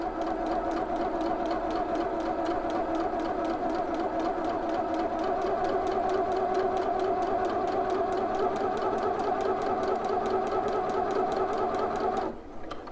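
A home sewing machine runs steadily for about twelve seconds, stitching a second row along a dress bodice, a close, even motor whir with rapid regular needle ticks, then stops abruptly near the end.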